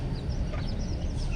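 A KT chicken clucking softly in a few short, close calls against a steady low background hum.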